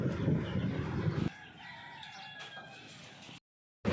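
Hens and a rooster in an open, roomy coop: a stretch of loud rustling noise gives way to clear, drawn-out crowing and clucking calls at moderate distance, ending in an abrupt cutoff.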